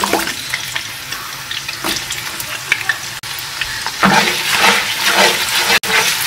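Chopped onions fry in hot ghee with cardamom, cinnamon, bay leaves and cloves for shahi biryani, giving a loud, steady, close sizzle with brief stirring scrapes and a brighter burst of crackling partway through.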